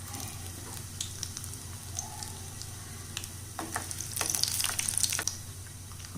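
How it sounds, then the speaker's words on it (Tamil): Mustard seeds, lentils and a broken dried chili fry in sesame oil, giving a steady close sizzle with scattered pops that grow busier toward the end, and no talking. "இப்போ கடுகு வெடிக்க ஆரம்பிச்சிருச்சு, பருப்புலாம் செவந்து வருது."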